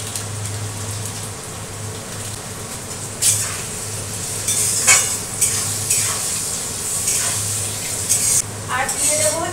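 Boiled potatoes frying in oil with salt and turmeric, a steady sizzle with a low hum beneath and occasional scraping stirs growing busier toward the end, close and fairly loud.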